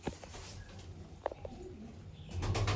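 Pigeons in a loft, with a few soft coos and brief wing flutters over steady background hum, fairly close, then a louder rush of noise near the end.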